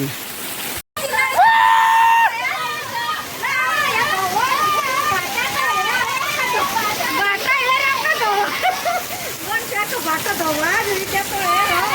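Heavy rain and hail roar steadily with a broad hiss in Karanjadi village, Gujarat, nearly drowned out by excited voices shouting and calling out over it the whole time.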